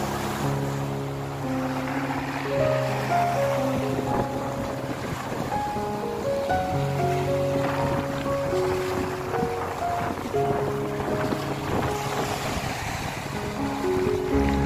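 Sea waves at a beach with clear blue water, a steady washing surf and wind rush running throughout, partly under background music.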